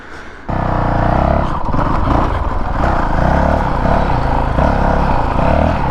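A 450L dirt bike engine runs loud and close while riding off-road, starting abruptly after a brief lull, then holding a rough, buzzing drone that wavers as the throttle changes.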